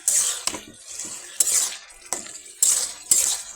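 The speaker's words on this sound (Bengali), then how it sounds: "কষিয়ে নিব এখন মাছটা সুন্দর করে" A spoon scrapes and clinks against a pan while rui fish bhuna is stirred and sautéed, with about five distinct strokes spaced through the stretch over a soft sizzle and no talking.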